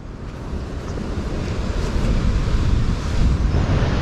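Surf at Pantai Seruni beach in Donorojo, Pacitan, a steady low roar of breaking waves mixed with wind buffeting the microphone, building slightly louder over the few seconds.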